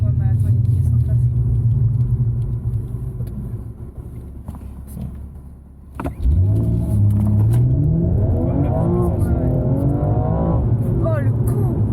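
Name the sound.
BMW M240i car accelerating hard from a launch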